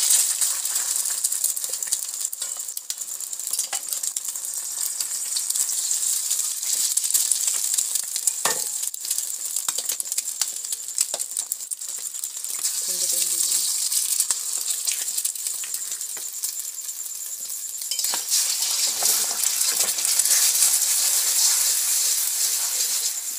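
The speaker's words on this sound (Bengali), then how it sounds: "ডিমটা অল্প অল্প করে ভেজে নিচ্ছি" Eggs sizzle and crackle in hot oil in a wok, a steady, dense frying hiss running loud and continuous throughout with occasional spatters and scraping stirs.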